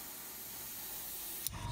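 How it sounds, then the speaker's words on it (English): A spray gun hisses steadily while painting a Meng 1/35 Mk.A Whippet model tank, a close, continuous broadband spray that cuts off abruptly near the end, followed by a faint low rumble. "spray that area."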